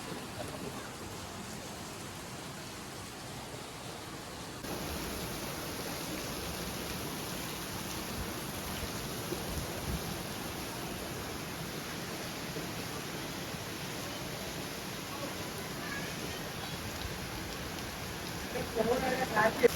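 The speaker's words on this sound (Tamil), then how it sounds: "செம்ம மழை" Heavy rain pours down at a stadium as a steady, dense hiss that holds throughout and grows slightly louder near the end.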